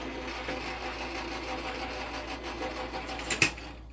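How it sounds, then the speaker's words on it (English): An electronic Couture Creations Go Press and Foil embossing machine runs with a steady mechanical whir and faint rhythmic ticking, ending in a sharp click as it stops. "I'm going to run this through my electronic Go Power and Emboss"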